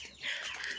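Young chicks give a short burst of high, thin chirping, fairly close and moderately loud, in a poultry yard.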